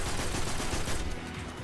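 Rapid gunfire from a weapon in a looter-shooter video game during Trials, a dense burst of shots that runs steadily and then thins out near the end.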